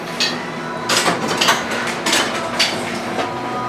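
Woodworking clamps being handled and set down on a workbench give a series of clattering metallic knocks and rattles over a steady background hum, close and fairly loud.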